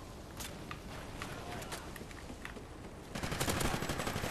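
Rapid automatic gunfire from the video game Call of Duty: Ghosts rattles in quick bursts over steady background noise. The shots grow louder and denser toward the end.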